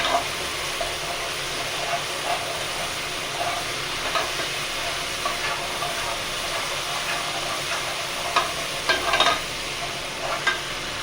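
Garlic and ginger sizzle and hiss steadily in a pan over a high flame, with intermittent stirring scrapes and clicks throughout and no talking.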